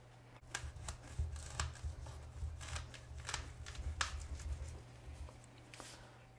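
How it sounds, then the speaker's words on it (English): A knife making pie-like cuts halfway into an amaryllis bulb through its basal plate, heard as a close series of short crisp slicing and crunching strokes at an uneven pace over a low steady hum. "make pie-like cuts into this bulb"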